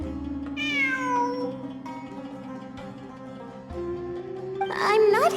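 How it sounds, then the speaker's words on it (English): A cat meows in a series of drawn-out, falling calls near the start, then again with rising, strained cries at the end. Music plays underneath and there is no talking. "It really is a cat."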